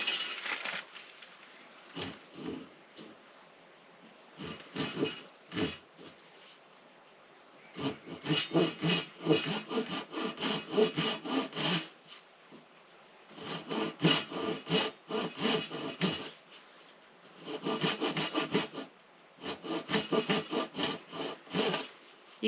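Hand saw cutting a wooden joint for a pergola, close rhythmic rasping strokes in several bursts separated by short pauses, loud and alone.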